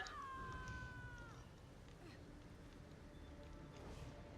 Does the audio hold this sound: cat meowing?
yes